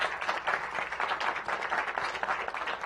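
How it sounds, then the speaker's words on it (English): A council session audience claps in a steady, moderately quiet round of applause for an officer's award, rippling evenly throughout without voices. "That deserves a round of applause."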